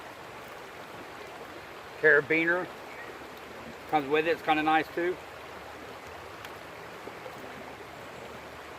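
Water from a stream flowing close by, a steady broadband rush running through the whole scene while someone talks over it in two short bursts.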